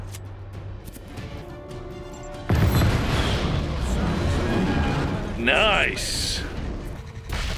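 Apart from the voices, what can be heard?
explosions destroying a radar in video game Just Cause 3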